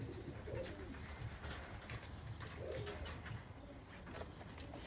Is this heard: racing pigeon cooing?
yes